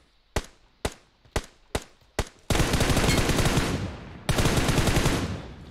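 Gunfire in PUBG Mobile, five sharp single shots spaced about half a second apart, then a loud sustained burst of rapid automatic fire that briefly dips and resumes, close and alone.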